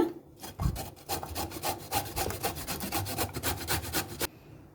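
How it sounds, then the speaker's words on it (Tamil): Bottle gourd being shredded on the fine side of a carrot grater for kheer, a steady run of quick rasping strokes, close and continuous, with no talk over it. "இப்போ இதை நம்ம ஒரு கேரட் துருவல் வச்சு நல்லா துருவி எடுத்துக்கலாம்."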